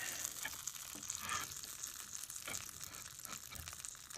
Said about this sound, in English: That's the sizzle of dank-ass pizza being cut.